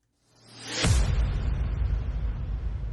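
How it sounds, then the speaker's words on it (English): A rising whoosh sweeps in from silence and lands on a deep, booming cinematic hit that rumbles and sustains loudly afterward. "I like to use this impact. I use it in a lot of my tracks."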